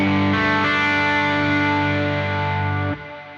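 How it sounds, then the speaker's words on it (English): Electric guitar chord strummed once through an intense distortion pedal with chorus and reverb, ringing loud and sustained with thick harmonics before cutting off abruptly near the end. "I'm going to switch to my other pedal here and get way more intense"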